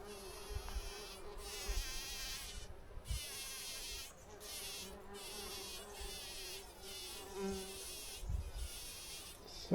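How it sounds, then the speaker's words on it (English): Steady buzzing of many bees, close and continuous, with a few louder passes as individual bees fly near, on Texada Island. "So many bees."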